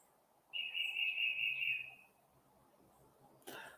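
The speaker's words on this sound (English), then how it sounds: "You get to listen to birds and me at the same time." A single clear, sustained whistled bird call rings out for about a second and a half in a quiet outdoor morning, followed by a brief soft rustle near the end.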